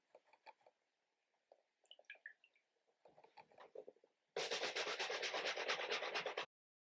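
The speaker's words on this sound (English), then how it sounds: "we're going to start off with a soft bristle brush" A soft bristle brush scrubs an Air Jordan 4 Motorsport sneaker, starting with quiet, sparse rubbing touches and ending in a louder, dense burst of rapid back-and-forth scrubbing close to the microphone.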